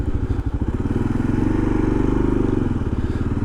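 A Kawasaki KLR motorcycle engine thumps steadily at close range as it rides along a town's main street, with a brief swell in revs midway and no talking.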